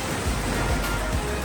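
Dense, steady rush of splashing water fills a theme park water ride at Warner Bros. World Abu Dhabi, loud and close with no voices.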